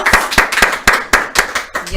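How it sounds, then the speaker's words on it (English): Clapping from a small group at a music video review show, about eight distinct sharp claps in a steady rhythm, close and fairly loud, with no talk over them. "Give him a round of applause."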